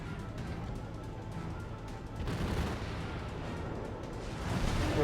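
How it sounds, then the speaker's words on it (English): Ship artillery in the World of Warships video game, heavy booming fire and rumbling blasts that swell louder partway through and again near the end, with no talk. "I'm being fired at."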